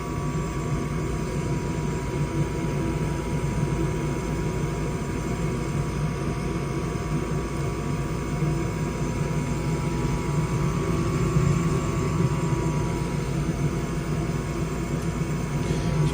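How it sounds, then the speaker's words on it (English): An old Goodman gas furnace with its blower running alongside the burner flame, giving a steady, continuous droning hum with faint tonal whine, close by and unchanging for the whole stretch. "See if the blower kicks on."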